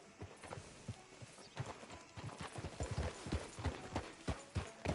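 Video game horse hooves clip-clop steadily at a walking pace, loud and close, with occasional faint snorts and no talking.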